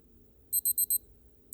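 Casio DW-5600 digital watch alarm buzzer giving a quick run of four sharp high beeps, then a pause and a fifth beep, close and clear over a faint low background hum.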